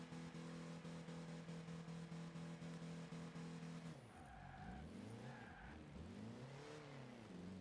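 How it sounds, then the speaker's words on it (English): A Willys MB military jeep from the 1940s driving in Forza Horizon 2, with a steady engine drone that breaks into sweeping tire skids and squeals through a turn, loud and with no talking. "This thing is a military vehicle from the 40s."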